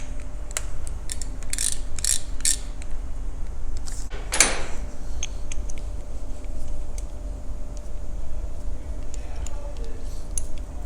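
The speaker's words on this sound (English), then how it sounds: "there's 2 screws on either side, and just will remove that with an 8mm" Screws being removed from a T100 low pressure diaphragm plate with an 8mm hex key, giving close metallic ratcheting clicks and a sharp clank, with a few faint words spoken.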